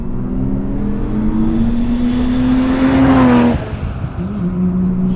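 A Nissan R32 Skyline's engine revs hard and loud as the car accelerates. The pitch climbs steadily, then drops at a gear change before pulling again.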